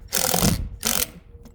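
Washer-head lath screws are driven through sheet metal into a trailer deck, giving two loud whirring bursts from a power driver, the first longer than the second, with a brief pause between them and a faint tail afterward.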